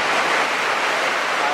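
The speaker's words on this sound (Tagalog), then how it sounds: "Medyo hangin. Malakas ng ulan." Typhoon wind and heavy rain roar as a steady, loud, dense wash of noise, with gusts buffeting the microphone and no break in the downpour.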